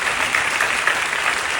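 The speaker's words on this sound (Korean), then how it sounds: "우리 박수로 격려해 주시고 고맙습니다." A church congregation applauds during a Korean Full Gospel worship service, a brief burst of steady, even clapping with no voices over it.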